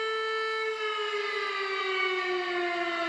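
An Emergency Alert System alarm siren holds a steady, droning multi-tone wail at moderate loudness, sounding alone without any voices for about three seconds.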